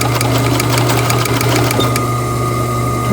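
A sewing machine stitches a knit T-shirt mask with elastic, giving a steady close motor hum with a rapid ticking stitch rhythm over the first two seconds before settling into a smoother whir.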